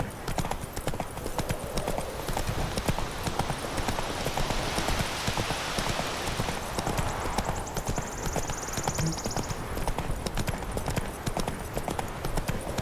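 Roach the horse from Witcher 3 galloping, with a steady rapid clip-clop of hooves on the ground under game ambience. The hooves sound close and continuous throughout.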